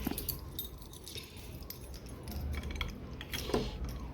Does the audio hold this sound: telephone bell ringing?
no